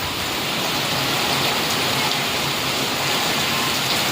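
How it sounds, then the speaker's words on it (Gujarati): Heavy rain pours down on Gordka village in Gadhada, Gujarat, in a constant, dense roar, close and unbroken throughout, with no one speaking. "જો કેવો વરસાદ છે"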